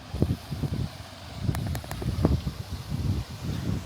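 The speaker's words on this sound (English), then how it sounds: "As I said, it's very windy." Gusty wind buffets the microphone, a low rumbling roar that rises and falls throughout, with a few faint clinks in the middle, on Kos, Greece.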